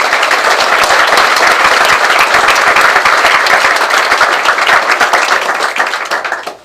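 An audience at a golf Hall of Fame induction ceremony gives a sustained round of applause, dense and loud clapping filling the room before tapering off at the end.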